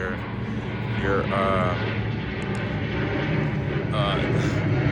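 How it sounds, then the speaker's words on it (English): A propeller airplane drones overhead as a steady, broad rumble beneath a person talking close by. "the airplane's flying over"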